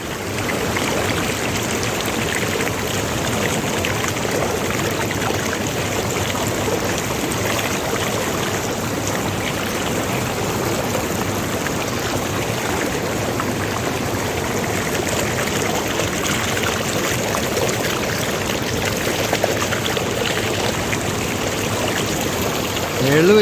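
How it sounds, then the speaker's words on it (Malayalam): Water pours steadily from a check dam into a bathing pool, a continuous broadband rush and splash that stays loud and even throughout, with no pauses. "അതൊരു ചെക്ക് ഡാമാണത്. ചെക്ക് ഡാമിനകത്ത് നിന്ന് വരുന്ന വെള്ളമാണ് അതിനകത്ത് ഉണ്ടായിരിക്കുന്നത്."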